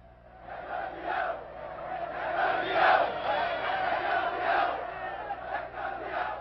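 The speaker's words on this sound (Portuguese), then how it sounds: "O grito emocionado da torcida tomou conta da cidade assim que o jogo terminou" Flamengo fans in Rio de Janeiro roar and chant in celebration of a world championship win, a massed crowd of voices swelling and surging continuously, loud and dense across the city.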